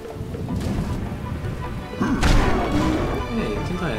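A lightning attack in Majin and the Forsaken Kingdom strikes with a loud crash about halfway through, followed by a rolling, rumbling thunder tail over busy game noise.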